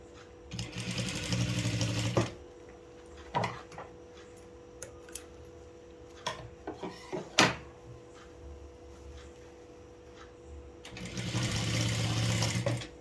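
A sewing machine stitches around a readymade top during a choli alteration. It runs in two loud, steady bursts at the start and end, with quiet fabric handling and light clicks in between.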